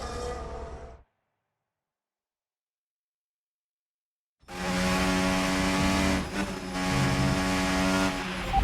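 Formula 1 race cars at Silverstone in the F1 2025 video game, with high-pitched engine whine cutting out to silence, then a loud, sustained roar of a car racing through with shifting tones.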